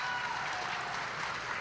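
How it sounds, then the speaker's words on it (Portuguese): Dense ovation applause for Sérgio Moro at a ceremony naming government ministers, a steady wash of many hands clapping at once, loud and continuous. "É uma ovação."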